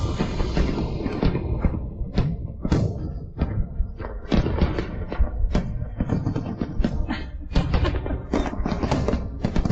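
Fireworks bursting in a rapid, irregular barrage of loud booms and thuds, some close and sharp, others overlapping into a continuous crackling rumble across the whole stretch.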